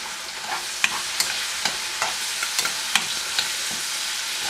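Spam fries in sesame oil in a pan, a steady close sizzle punctuated by regular scraping and tapping strokes of a spatula turning the pieces.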